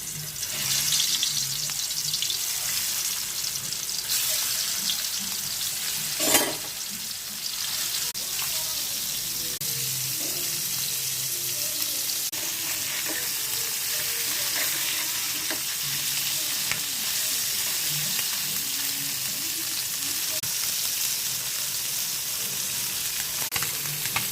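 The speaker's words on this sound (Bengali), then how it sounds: "গরম হয়ে গেছে, ভেজে নেব।" Stinging catfish fry in hot oil with a continuous, close hiss and sizzle lasting the whole stretch, broken by a single louder crackle early on, with no talking.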